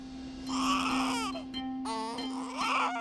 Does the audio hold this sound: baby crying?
yes